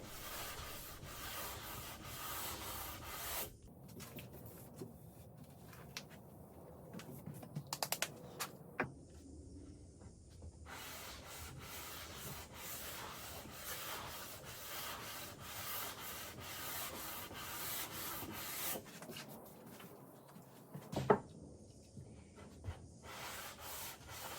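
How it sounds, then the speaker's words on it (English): Sandpaper worked by hand along a wooden profile, giving steady broadband rasping strokes with brief pauses and a few sharper scuffs, close and continuous with no talking. "I'm starting to work the sandpaper on the better side of the profile as well"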